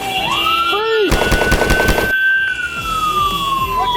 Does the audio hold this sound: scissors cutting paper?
no